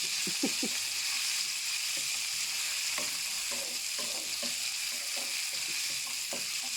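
Pork stir-frying in a hot pan for a noodle dish, with a constant bright sizzle and repeated scraping, clinking strokes of a spatula tossing the meat.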